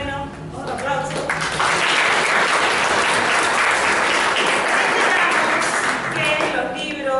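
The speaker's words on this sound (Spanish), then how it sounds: "otro aplauso" A dense, steady round of audience applause at a literature and culture talk, loud and sustained for several seconds, with a voice faintly audible at the start and end.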